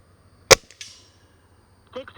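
One sharp close shot from an Air Venturi OmniStorm air gun firing a pellet, a crisp crack followed by a short clatter, then a faint voice near the end.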